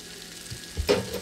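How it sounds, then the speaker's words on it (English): Pineapple sizzling as it cooks down in a pan for a mango pineapple sauce, a soft frying hiss with a brief louder burst of spatter and stirring near the end, close and alone. "Also the pineapple. Look at that, guys. Cooking down nicely."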